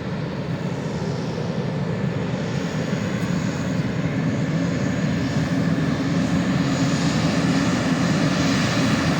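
A light aircraft engine drones steadily and loudly at a small airport in Morristown, Tennessee, a continuous propeller roar holding near and even throughout with no talk over it.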